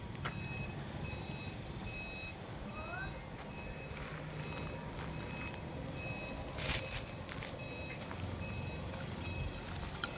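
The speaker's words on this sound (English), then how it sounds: "Ito 6M60 Fuso Fighter dump truck." A Fuso Fighter dump truck with an Isuzu 6M60 engine gives out a regular series of high reversing beeps over a quiet outdoor background, with a few sharp clanks and a brief rise in rumble midway.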